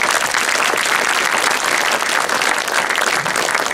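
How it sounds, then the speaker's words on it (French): Audience applause at a conference after the host introduces the lecturer: a dense, steady wash of many hands clapping, loud and sustained with no voices on top. "Je vous demande donc de l'applaudir plus que chaleureusement."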